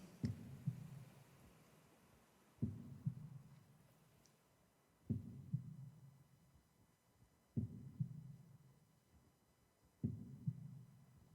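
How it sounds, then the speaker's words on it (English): Slow, steady low thumps repeat about every two and a half seconds, each a soft double beat like a heartbeat, quiet and close with no talking. "Only hearing the sound of your breath and your heart beating"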